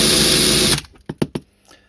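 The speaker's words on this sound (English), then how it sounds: "That's a 5mm drill" A 5mm drill bit bores into cast resin with a loud, steady whir for most of a second, then stops abruptly, followed by three sharp knocks and a faint scrape.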